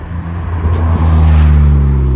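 A Vauxhall VX220 roadster's engine revs hard on a Scottish country back road, a loud, close, steady droning roar that swells and holds as the car pulls, with no talk over it.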